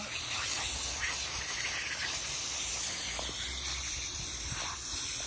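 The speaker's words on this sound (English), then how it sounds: "I usually spray my filters out a few times before I get new ones" A steady, loud hiss of a hose spraying water continuously against a pool filter, unbroken throughout.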